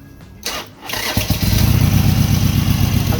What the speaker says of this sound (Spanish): voy a arrancar la motocicleta